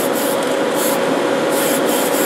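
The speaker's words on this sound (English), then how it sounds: "I spray it just like the paint." Tamiya TS13 clear gloss coat sprayed from an aerosol can onto a 1/14 Grand Hauler semi truck model in a paint booth, a steady continuous hiss with brief surges, close and loud throughout, no talking.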